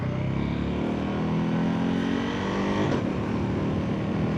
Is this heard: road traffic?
yes